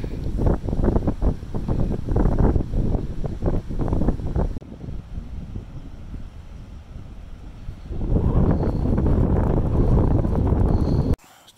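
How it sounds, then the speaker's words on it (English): Gusting wind at a wild camp in the Scottish Highlands between Glen Tilt and Glen Bruar buffets the microphone in loud, rough bursts, then eases to a lower roar before strengthening again. No one speaks. "the wind's getting up now"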